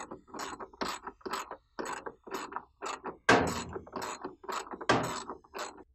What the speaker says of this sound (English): once it's tight, grab our ratchet and finish tightening it down